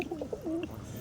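Close, soft cooing from a pigeon kept among newly brought Madras birds: one brief, wavering coo phrase, heard alone without talk.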